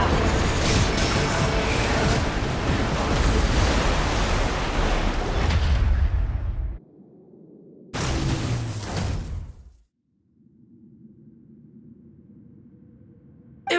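A wind-like whooshing gust fills the first seven seconds in the Genshin Impact game, loud and broadband. It cuts off, bursts again briefly, then drops to a low quieter drone.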